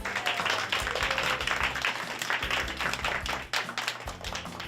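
A small audience claps for a young student chef who is a Future Chefs finalist, the dense patter steady and fairly close, with a low rumbling hum underneath and no speech.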